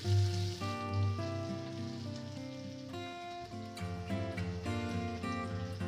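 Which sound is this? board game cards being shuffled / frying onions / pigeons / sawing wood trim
frying onions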